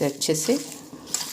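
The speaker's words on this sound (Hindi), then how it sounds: "मिक्स करूँगी।" A spoon stirs chopped onion with salt, cumin powder and turmeric in a metal bowl, making soft scraping and clinking sounds close by while someone speaks over them.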